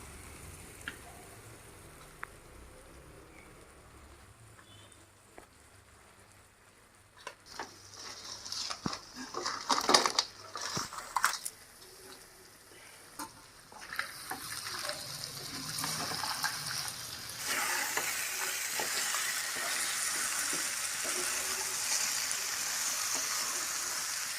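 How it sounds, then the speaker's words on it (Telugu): Crab pieces dropped into masala in a pan for crab curry, frying with a steady sizzle that rises and grows louder, with occasional stirring clatter and no talk. "ఇప్పుడు పీతలు వేసుకుందాం"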